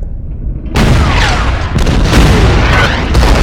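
A Gurkha unit opens fire in the strategy game Order of Battle, a loud dense volley of booming gunfire and crackling shots that continues without pause.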